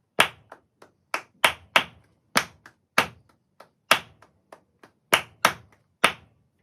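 Flamenco palmas in a bulerías rhythm: sharp, close handclaps ring out alone in an uneven accented pattern, loud strikes alternating with softer taps across the bar.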